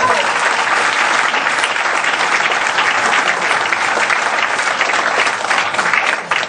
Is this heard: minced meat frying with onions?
no